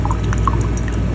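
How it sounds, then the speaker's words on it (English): Hot boiled water pours from a DeLonghi coffee machine in a short, steady, close stream with faint drips and no voices. "Hot water is here. See, boiled hot water is coming."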